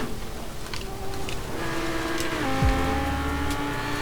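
A Lamborghini engine in the racing game Forza Horizon 4 revs and climbs through the gears, a continuous, fairly loud whine with pitch sweeping upward.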